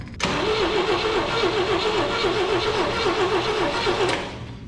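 A 1974 International Harvester Scout, parked since the 1980s, cranks on a jump box with a loud, close, rhythmic starter churn that holds steady for about four seconds, then cuts off abruptly.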